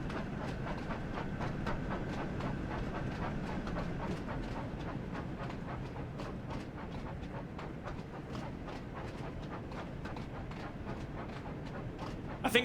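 Steady rolling rumble of a train running on rails in a Thomas & Friends video game, continuous with faint rhythmic clacking throughout.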